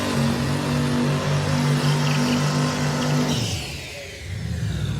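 A car engine revs during a burnout and holds a steady high RPM as a constant tone for about three seconds. It then drops away, and a rougher roar takes over.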